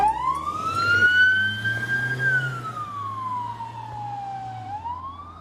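A police car siren in Kentish Town, London, one long wailing tone that rises, holds and slowly falls, fairly close over low traffic rumble, with no speech.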